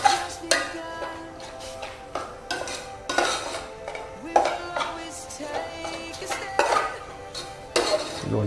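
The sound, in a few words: stir-frying minced pork in a pan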